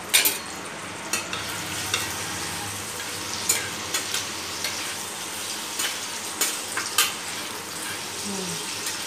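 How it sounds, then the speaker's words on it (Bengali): Garlic sizzles in mustard oil on an induction cooktop under a steady crackling hiss, with a spatula scraping and knocking against the pan at uneven intervals, close and moderately loud. "সর্ষার তেল দাও, তেলের মধ্যে এবার রসুন ফোড়ন দাও, এবার খুন্তি দিয়ে নাড়াও"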